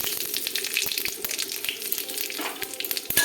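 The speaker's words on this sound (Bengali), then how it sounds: "তেলটা গরম হয়ে গেছে, ফোড়ন দিয়ে দেবো তেজপাতা, পাঁচ ফোড়ন" Bay leaf and panch phoron tempering hit hot oil in a pan, giving a crackling sizzle with sharp pops and spits scattered over a steady frying hiss, close up.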